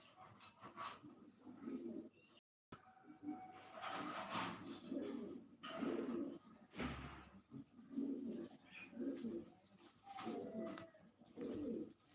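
Soft, low pigeon coos repeat in short rounded phrases, close by in a racing pigeon loft, with faint rustling between calls and a brief silent gap early on.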